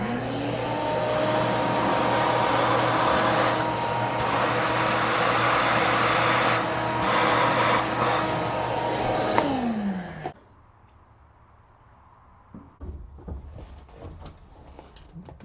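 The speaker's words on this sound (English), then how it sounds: "Let me shop vac this out." A shop vac runs loudly and steadily while cleaning out the brake area of an old U.S. postal Scout that sat for 50 years, then winds down and shuts off, leaving faint clanks and shuffling nearby.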